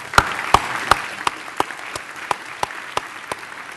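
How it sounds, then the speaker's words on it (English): A conference audience gives Sir Gus O'Donnell a short round of applause, with slow, evenly spaced claps standing out clearly and gradually softening over a few seconds. "we should applaud Sir Gus to actually say, well done, we've done something, we're moving it forward"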